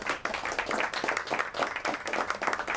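Audience applause for Mas Muklas at a gathering, a steady wash of clapping from many hands lasting the whole stretch, moderately loud and fairly close.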